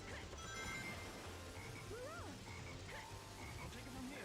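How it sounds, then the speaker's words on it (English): A frog in the video game Sonic Heroes croaks in a few short, rising and falling calls. They are quiet and sit over a low ambient hum from the game. "Look at the frog."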